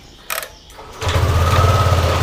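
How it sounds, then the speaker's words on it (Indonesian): A Yamaha Aerox scooter engine cranks briefly, then catches and settles into a steady, loud idle close by, with no talk over it. "Jadi kita coba nyalakan mesinnya, normal apa enggaknya kita coba nyalakan."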